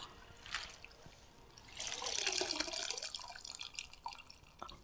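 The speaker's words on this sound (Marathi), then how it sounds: "आता ही अशी कचकटून पिळून घ्यायची. पाणी राहू द्यायचं नाही." Washed spring onion greens are wrung out by hand, squeezed water dripping and trickling steadily for a few seconds, close and fairly quiet with no talking.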